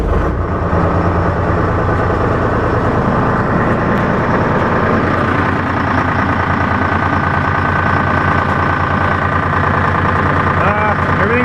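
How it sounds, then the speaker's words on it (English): An M561 Gama Goat starts up after a fuel pump rebuild and settles into a steady, loud, rumbling idle close by, with people talking over it. "So we'll go ahead and start her up to make sure everything's good to go."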